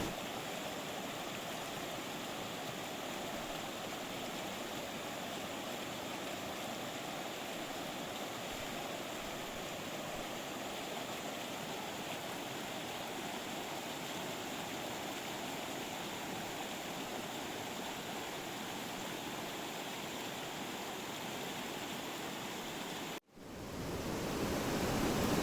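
Creek water rushing in a continuous broadband wash, steady and close for over twenty seconds, then cutting off briefly before resuming.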